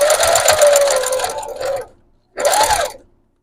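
A sewing machine fitted with a jean needle stitches through layered junk journal wall art, giving a loud, close, rapid mechanical whir in two runs separated by a short pause.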